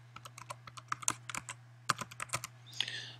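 Password being typed on a computer keyboard, with a quick, uneven run of close, crisp key clicks over a low steady hum, one pause, and then a brief final flurry.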